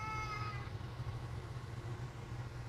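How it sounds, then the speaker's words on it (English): A cat named Romeo gives a short, clear meow lasting about half a second at the start, then only a steady low hum remains. "Romeo's meowing."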